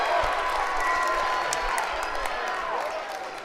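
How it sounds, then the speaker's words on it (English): Crowd noise roars steadily through a packed arena during a varsity boys basketball game between Thermopolis and Rock Springs after a blocked shot, a loud continuous wash of cheering and clapping with a few sharper claps. "And that got a crowd reaction."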